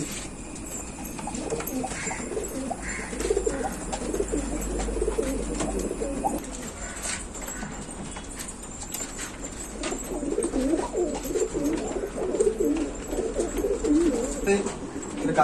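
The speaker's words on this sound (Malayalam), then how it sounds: "ഇതാണ് രണ്ട് പ്രാവുകൾ" Two pigeons coo steadily and softly throughout, their low, repeated calls blending in a continuous murmur.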